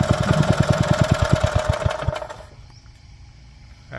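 Robin 5 hp four-stroke gasoline engine with a reduction shaft runs with a loud, rapid, even putter for about two seconds, then shuts down and fades into near silence.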